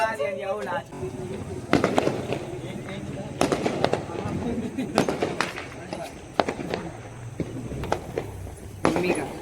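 Firecrackers set off at a home Diwali celebration, a series of sharp irregular pops and crackles at close range amid people talking and shouting.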